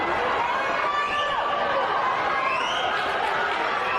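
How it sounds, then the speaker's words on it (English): A live-stream show audience reacts together, a steady wash of crowd chatter and murmuring with a few rising vocal swells, sustained and fairly loud throughout. "You can hear the crowd. You can hear if you guys watching, even if you're listening on podcast platforms, you can hear the crowd gasp."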